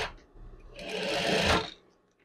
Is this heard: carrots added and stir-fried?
no